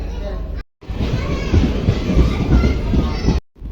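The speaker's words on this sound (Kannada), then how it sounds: "ಟ್ರೈನಿಗ ಅಂಗಡಿಗೇರಿ ರೈಲ್ವೆ ಸ್ಟೇಷನ್ಗೆ ಬಂದೈತಿ" DEMU Express 11415 on the Solapur–Hosapete line pulls into Angadigeri railway station with a loud, steady rumble and rattle, cut by two brief sudden dropouts.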